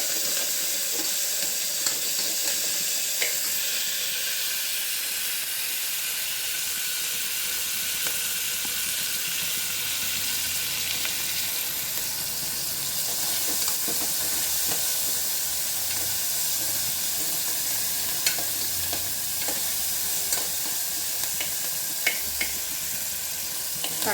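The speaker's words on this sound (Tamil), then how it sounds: "தக்காளி நல்லா வதங்கட்டும்." Tomatoes and curry leaves sautéing in a pan, giving a steady, loud hissing sizzle that carries on without a break, with faint scattered scrapes and pops throughout.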